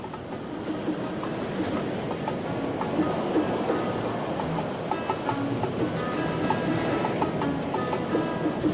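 Rough sea surf pounds against the Malecón seawall in Havana, a continuous loud roar of churning, crashing water that goes on steadily without any voices.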